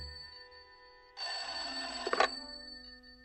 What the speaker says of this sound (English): Sounds like the phone to me.